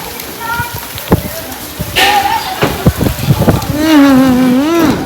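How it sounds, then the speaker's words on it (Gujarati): Heavy rain pours steadily through a sudden storm, a constant wash of noise underneath several people talking and one voice singing. "આ તો વાવાઝોડું હો ભાઈ."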